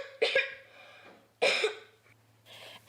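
A child coughs in three separate harsh fits, each a burst of two or three chesty coughs, close and fairly loud, with quiet breathing in between and a low steady hum underneath.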